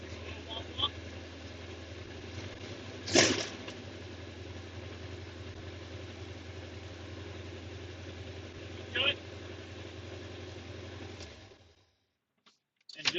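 A Jeep engine idles steadily up close, running on a bypassed fuel pump, with a low constant drone and a couple of sharp clicks. The engine cuts off near the end, leaving a short silence.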